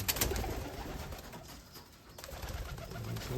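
Pigeons in a loft, including a red-speckled bird, coo in low, steady murmurs close by, with a fuller burst near the end.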